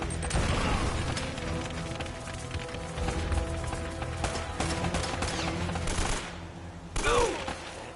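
Enemy gunfire in Uncharted: Drake's Fortune, a dense fusillade of rapid shots and bursts crackling almost without pause, with mechanical clatter between volleys and a loud final burst near the end.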